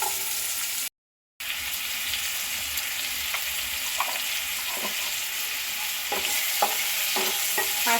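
Lentils being stirred with salt and turmeric powder in a hot pan for a sour raw-mango dal make a steady close sizzle. It cuts out briefly near the start, then returns with a run of spoon scrapes and taps.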